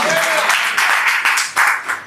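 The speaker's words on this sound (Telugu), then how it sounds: "గట్టిగా చప్పట్లు కొట్టి దేవుని కనపరచు." A church congregation claps loudly in quick rhythmic bursts while voices carry on over the clapping.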